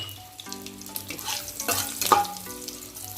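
Crushed garlic cloves tossed into a hot pan for a moringa leaf and mung bean dish, giving a continuous close sizzle that swells and crackles midway, with faint tonal hums from the kitchen in the background and no talking.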